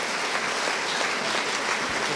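Audience applause at an Italian sports celebration event, a steady dense clatter of many hands clapping, moderately loud and continuous throughout with no voices on top.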